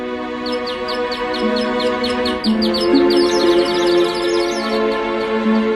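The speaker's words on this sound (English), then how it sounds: "a series of cogs, ropes, and pulleys made the bird sing when the wheel was turned" Heron of Alexandria's mechanical singing bird, driven by cogs, ropes and pulleys as a wheel turns, gives quick, repeated high chirps over a steady droning tone, growing busier and denser midway.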